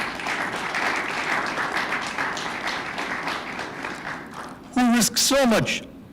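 Round of applause for health workers at a tourism ministers' meeting, a broad wash of many hands clapping that gradually thins, followed near the end by a short burst of loud, pitched sound like feedback or a tone.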